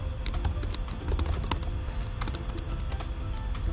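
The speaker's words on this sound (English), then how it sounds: "now go ahead and type in your new password" Typing a new password on a computer keyboard, a steady patter of close, quick key clicks running continuously without talk.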